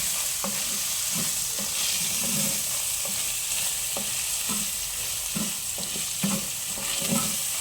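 Cooked potato being stirred into sorghum khichdi in a pan, a rhythmic spoon scraping and knocking over a soft steady sizzle, close and alone.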